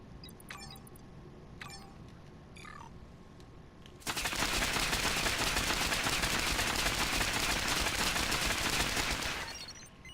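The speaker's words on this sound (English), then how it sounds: "I'll show you the auto fire acorn as well." Squirrel Girl's auto-fire acorn attack in Marvel Heroes Omega, a dense, loud burst of rapid shots that runs continuously for about five seconds after a few short chirping effects.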